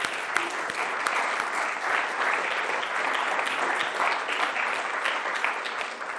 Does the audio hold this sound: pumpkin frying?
no